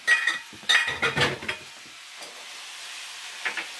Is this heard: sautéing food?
yes